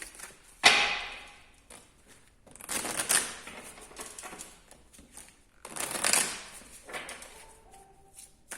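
Tarot cards are handled and shuffled during a Pisces reading. Separate bursts of riffling and flicking come with a sharp snap near the start and quieter rustles in between, close up and with no voice.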